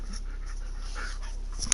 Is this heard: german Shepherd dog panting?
yes